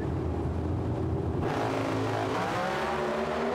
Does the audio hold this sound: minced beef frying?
no